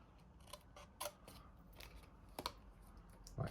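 Scissors snipping into card for a Christmas advent calendar, several short close crisp cuts in an uneven rhythm in an otherwise quiet room.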